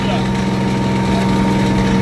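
A T90 sprayer's small engine runs at a steady, close hum while agitating the spray mix, a constant drone with no change in pitch over the two seconds.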